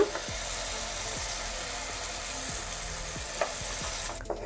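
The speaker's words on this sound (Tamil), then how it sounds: "இது நல்லா பச்சை வாசனை போகிற அளவுக்கு ஃப்ரை பண்ணிகிட்டே இருங்க" Mashed banana mix frying in ghee over a slow flame, a soft, even sizzle with a few quiet scraping stirs of a spoon at intervals, close and low in level.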